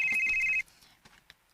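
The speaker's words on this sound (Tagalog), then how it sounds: "Kaniharan mo lang na sigbagtig mong cellphone." A cellphone rings with a bright repeating electronic tone for about half a second, then cuts off, leaving faint scattered sounds in a quiet room.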